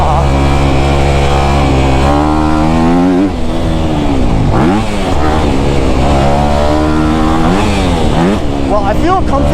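A 2024 Honda CRF250R dirt bike engine, heard loud and close, revs high and drops back repeatedly through rising and falling pitch sweeps as the rider works up through the gears.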